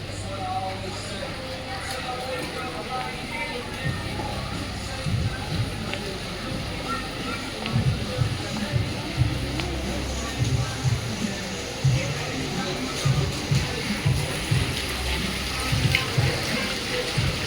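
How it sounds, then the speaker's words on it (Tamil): Waterfall feature inside a restaurant pours in a steady, broadband rushing wash throughout, with someone talking over it for much of the time. "பின்னாடி பார்த்தீங்கன்னா வாட்டர் ஃபால்ஸ் மாதிரி இருக்குது"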